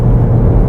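A 2025 MINI Countryman JCW ALL4 pulls away from a standstill under full throttle, giving a loud, steady low engine rumble with no talk over it.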